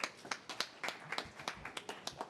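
A small audience at a public hearing claps sparsely, with a dozen or so distinct, uneven hand claps spread across a few seconds in a quiet room.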